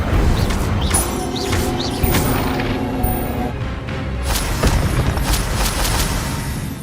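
Incendio fire spell blasts in Hogwarts Legacy, a loud, dense whooshing burst with rumbling booms that carries on steadily amid game sound effects and music.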